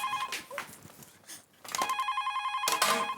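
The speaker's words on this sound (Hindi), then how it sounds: "फोन" A telephone bell rings in a household setting, with repeated trilling bursts separated by short pauses, loud and close, and a brief stretch of quieter background sound between rings.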